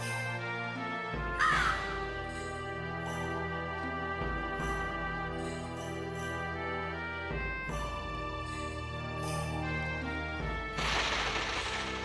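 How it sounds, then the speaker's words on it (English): Crows cawing in the video game Legend of Dragoon, several harsh caws over a sustained musical background drone, with a louder burst of noise near the end. "Just the sounds of the freaking birds, man."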